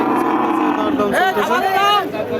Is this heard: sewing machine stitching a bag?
no